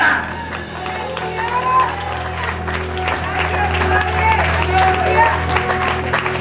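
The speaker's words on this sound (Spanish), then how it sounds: "Por favor, déjales de aplaudir." Church congregation applauding during a lively service, a dense wash of clapping and cheering with voices mixed in, steady and moderately loud throughout.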